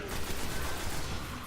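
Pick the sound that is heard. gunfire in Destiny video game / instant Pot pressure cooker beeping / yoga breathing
gunfire in Destiny video game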